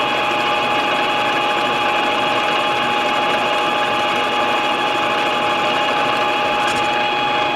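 A metalworking machine takes a cut on a Vevor 72-tooth gear, giving a steady, loud mechanical drone with a constant tone throughout, close and unbroken, with no speech.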